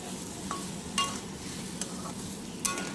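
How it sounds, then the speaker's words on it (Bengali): Spiced vegetable curry with peas and lentil fritters is stirred in a frying pan, giving a soft, steady sizzle with a few faint scrapes and clicks of the spoon against the pan, heard up close and quiet. "নেড়ে চেড়ে নিলাম"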